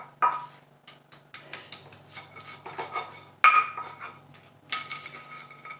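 Spices being ground in a stone mortar (ulek) at home while cooking free-range chicken, heard as intermittent knocks, scrapes and clinks of stone on stone, close and moderately loud, with no talking.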